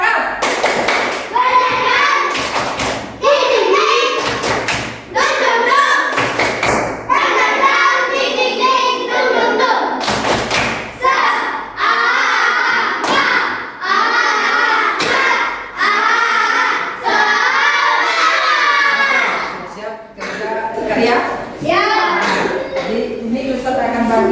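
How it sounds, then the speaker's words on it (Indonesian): A classroom of young pupils performs a rhythmic clapping chant led by a teacher, with bursts of sharp claps and thumps in patterned beats mixed with loud chanting voices and talk between rounds. "Oke, kita tepuk semangat lagi satu kali baru kita kerjakan karya. Oke, tepuk semangat."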